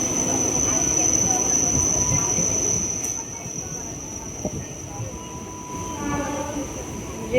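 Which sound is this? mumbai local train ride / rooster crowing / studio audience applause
mumbai local train ride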